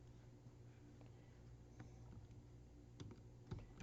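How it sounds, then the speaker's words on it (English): Quiet, steady computer keyboard typing close by, a run of soft clicking keystrokes over a low hum, with a couple of sharper taps near the end. "I'm typing and it's not going anywhere"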